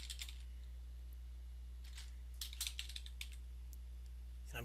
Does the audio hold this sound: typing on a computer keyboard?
yes